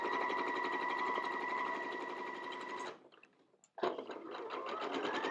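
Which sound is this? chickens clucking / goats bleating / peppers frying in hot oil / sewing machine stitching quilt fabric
sewing machine stitching quilt fabric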